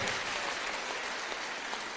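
A church congregation clapping, a dense, continuous burst of many hands that runs evenly throughout without talk over it.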